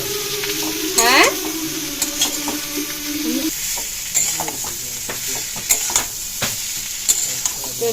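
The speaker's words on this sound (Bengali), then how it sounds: "তো এই যে লবণ হলুদ দিয়ে এবার একটু নেড়ে নেব।" Potatoes with salt and turmeric being stirred in a sizzling pan, with a utensil scraping and clinking against the metal in irregular strokes over steady frying hiss, close by with no talking.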